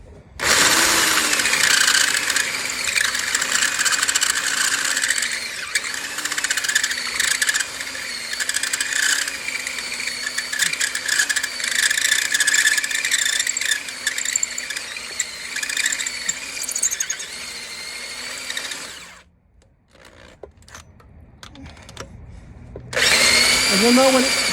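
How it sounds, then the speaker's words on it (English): A drill fitted with a 1-inch hole saw grinds over a spinning lug nut on a 2014 Town & Country minivan, whirring and squealing loudly for nearly twenty seconds before stopping, then a few clicks and a short restart. "So I have a 1-inch hole saw on there. And all you do is just go on the outside of the saw, go inside it with this"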